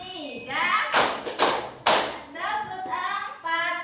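A classroom of children clap together in short counted bursts, three loud clusters of hand claps between stretches of children's voices chanting along.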